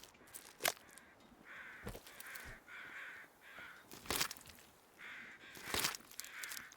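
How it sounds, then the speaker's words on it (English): Crows caw repeatedly in The Long Dark, a snowy wilderness survival game, with harsh calls coming in short bursts that seem somewhat distant and overhead, over a quiet background with occasional sharp clicks. "I hear crows, but I think they're overhead crows."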